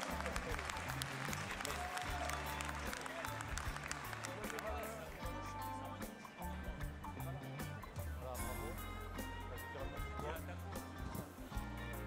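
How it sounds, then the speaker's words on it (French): Audience applause at a Gascon cattle competition award in the Pyrenees, a steady wash of clapping that runs the full length, with music or a PA and crowd noise mixed underneath. "On peut l'applaudir très fort, bravo à lui."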